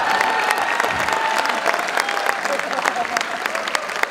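Audience applause at a Hindi poetry recital for Independence Day, a steady wash of many hands clapping throughout, with a faint tonal line running underneath and no talk.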